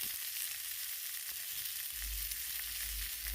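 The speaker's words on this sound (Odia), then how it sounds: "ବର୍ତ୍ତମାନ ଦେଖନ୍ତୁ ମାଛ ଭଜା ଆମର ତିଆରି ଚାଲିଛି।" Fish frying in a pan gives a steady, close sizzling hiss throughout, with a low rumble joining in during the second half. No one speaks.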